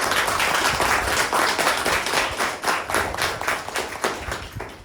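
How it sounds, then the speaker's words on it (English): Applause for the role takers at a Toastmasters club meeting: a room full of people clapping steadily and densely throughout, loud and sustained with no pause. "request everyone to give a huge round of applause for all the role takers"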